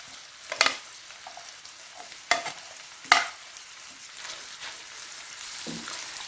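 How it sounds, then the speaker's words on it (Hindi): Capsicum and cabbage stir-fried in a pan, with a steady soft sizzle and three sharp scrapes of a spatula against the metal, close and loud, and no voice. "और अब इन तीनों चीज़ों को 3 से 4 मिनट के लिए इसी तरीके से पकाऊंगी।"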